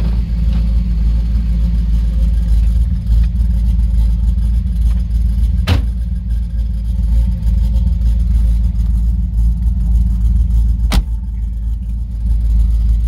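A 1962 Corvette restomod with a ZZ6 V8 engine runs loud and close, a deep steady rumble holding throughout, broken by two sharp clicks.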